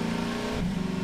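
A car engine revving in Half-Life 2, a steady droning hum that shifts pitch midway as the throttle changes, heard alone and fairly faint.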